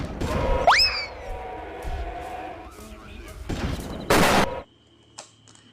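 In the video game Carnivores Dinosaur Hunter, a hunter fires at a T-Rex, with a few loud gunshot bursts and booming impacts among game sounds and a rising electronic tone, under light talk.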